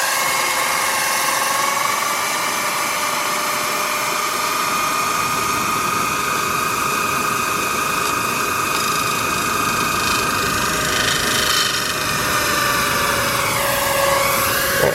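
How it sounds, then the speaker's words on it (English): A small motor is turned by a 3D-printed Pelton water turbine. A constant rushing spray of water mixes with a thin whining motor hum, loud and close, with no talking throughout. "you can see this motor's just slowly chugging along."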